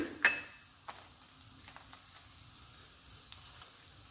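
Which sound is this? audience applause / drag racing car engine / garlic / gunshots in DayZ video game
garlic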